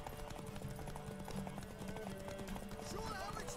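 Horse hooves clip-clopping in The Witcher 3 game, a quick steady rhythm of faint hoofbeats mixed with background music and ambience.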